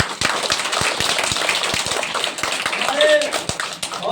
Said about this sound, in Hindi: चलो एक बार जोरदार ताली हो जाए